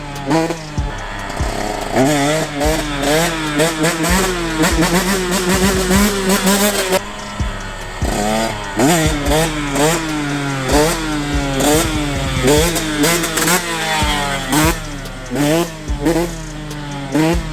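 A two-stroke motorcycle engine revs loud and close in repeated rising and falling surges as the clutch is popped in second gear for a wheelie, with no talking.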